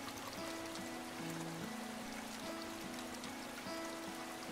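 Watery ambience in the video game Higurashi, a soft continuous trickle and patter of rain or a stream beneath a gentle looping tonal melody, steady and calm throughout.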